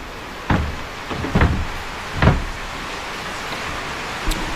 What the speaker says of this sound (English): Actually, I should close the door.